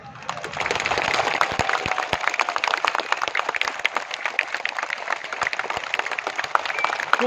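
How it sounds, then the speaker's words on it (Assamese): A crowd at a Congress political rally in Assam claps for several seconds, steady and sustained applause with sharp individual claps standing out, fairly distant and with no one speaking over it. "আপোনালোকে সকলোৱে হাত তালি বজাব।"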